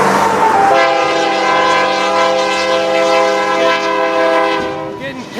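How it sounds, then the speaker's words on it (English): A train horn blares long and loud, one sustained chord lasting several seconds over the heavy rumble of a double-stack freight train passing from behind. "getting passed from the back by a stack train"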